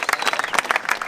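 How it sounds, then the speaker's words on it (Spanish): A short burst of applause with clapping from a small crowd at a cliff-jumping contest in Zarautz, uneven claps close by and loud. "aplauso para Lander"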